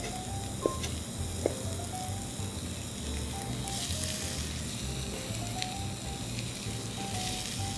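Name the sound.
onion sizzling as it wilts in a pan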